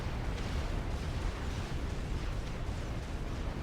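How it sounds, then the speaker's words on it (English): Rows of triad turrets and plasma cannons firing together in Supreme Commander: Forged Alliance, a continuous dense rumble of overlapping booms and blasts at steady loudness with no voices. "the next layer of triads have now opened fire. Plasma cannons also"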